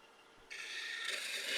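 On a wood lathe, the tailstock is slid away with a close metallic scraping rub that starts abruptly and grows brighter and louder over a second or so, with no voices.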